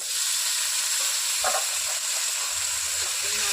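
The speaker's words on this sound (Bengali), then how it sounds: "এই ইঁচড়টা ঢেলে দিচ্ছি।" Jackfruit sizzles loudly and evenly in a hot pan, a dense close hiss with a brief clatter midway as it hits the metal.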